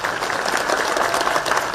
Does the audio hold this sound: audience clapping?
yes